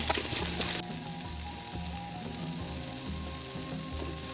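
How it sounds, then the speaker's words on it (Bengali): Chopped tomato, onion, ginger and garlic hit hot oil in a pan with a loud burst of sizzling, which settles into a steady, quieter frying hiss over a low hum as the mixture is stirred. "তার মধ্যে যে কেটে রাখা টমেটো, পেঁয়াজ, আদা, রসুন যেটাই ছিল সেটাকে আমি সমস্তটা ঢেলে দেবো। এবারে এটাকে ভালোভাবে আমি নাড়তে থাকবো।"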